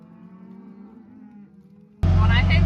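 Cattle moo during a North Dakota harvest day: a long, low, drawn-out moo at moderate distance, then a sudden much louder bellow close by that fills the end.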